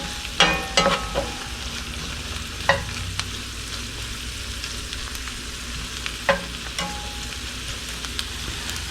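Venison steaks fry loudly in a pan over a camp stove, a steady close sizzle broken by a few sharp clanks and scrapes of utensils stirring or turning the meat.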